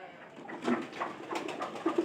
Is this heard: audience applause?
no